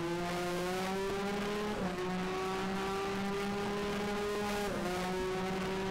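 A 1985-season F1 race car in F1 Challenge drones at high revs, its engine note climbing steadily with two quick gear shifts, loud and continuous with no talk.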